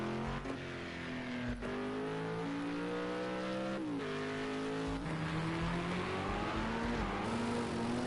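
LMP2 and LMP3 prototype race cars lapping Nürburgring in the rain, engines screaming continuously with rising and falling pitch through gear changes, loud and close, with faint tyre noise.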